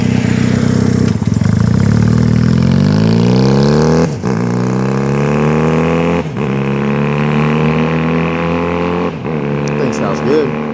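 A 1970 Honda CD175 Twin motorcycle engine runs close by at a steady idle with a throbbing twin-cylinder beat, its pitch rising slightly and dipping briefly a few times.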